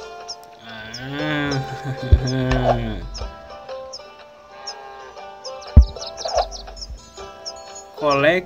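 Cartoonish cow moos and chirpy bird calls from the FarmVille 2 farm game on Android, several drawn-out moos over light game music, with a person talking in between.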